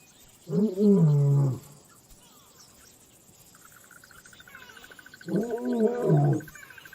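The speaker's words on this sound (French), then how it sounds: "Leurs rugissements mettent les lionnes et leurs petits en alerte." Male lions roar in two deep, heavy bursts separated by a few seconds of quiet, each about a second long and close by, while crickets and other insects chirp steadily in the background.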